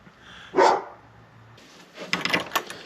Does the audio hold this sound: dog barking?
yes